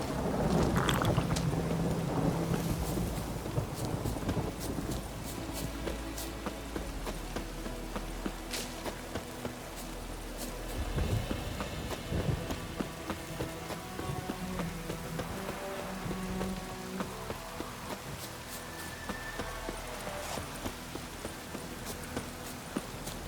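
A storm in The Witcher 3 sets steady rain hissing over the ground while low rumbles of thunder roll in the distance, with scattered thuds and clip-clopping steps on top.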